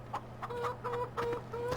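Chickens cluck in a Farming Simulator 15 farmyard, a run of short, soft, repeated clucks over a steady low hum, continuing for under two seconds with no talking.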